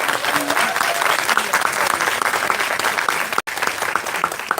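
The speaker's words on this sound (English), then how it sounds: "So if one more time, round of applause" A loud, sustained round of applause fills the room at a college hooding and awards ceremony, dense clapping from a large audience carrying on steadily with a brief cut partway through and faint voices beneath.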